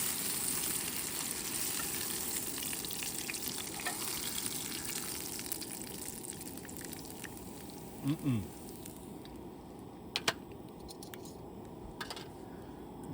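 Sausage sizzles in a pan over a camp stove on a mountain hammock-camping trip, a soft steady crackle and hiss throughout, with a brief scrape of the pan and a couple of faint clicks near the end.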